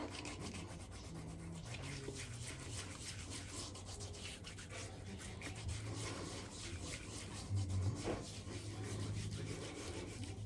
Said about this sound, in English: you're supposed to rub this into your face for a minute